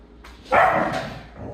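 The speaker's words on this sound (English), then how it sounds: "Oh, my dogs are in the background barking." A dog gives a couple of short barks in the background, fairly faint and brief, with no talking.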